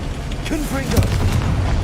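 A Confringo fire spell from Hogwarts Legacy lands with a deep booming blast, a rumbling burst under a brief vocal sound from the game, lasting under two seconds.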